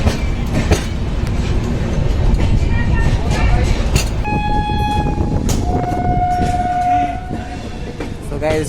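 Kota Katra Express passenger train running, a loud close rumble and rattle of the carriages with a horn sounding partway through and people talking over the steady noise.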